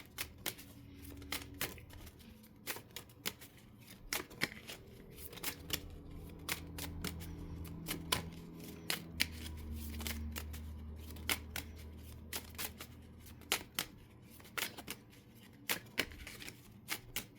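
Tarot cards are shuffled close up in a series of quick riffling, snapping bursts with short pauses between them, over a faint, low background hum.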